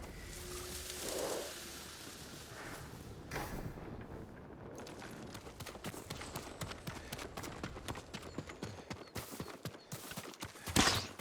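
Horse hooves clip-clop in a steady, brisk rhythm over a constant wash of background noise in the video game Ghost of Tsushima, with a sharper rattle near the end.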